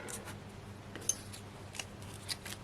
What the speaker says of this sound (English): Just cut myself another piece.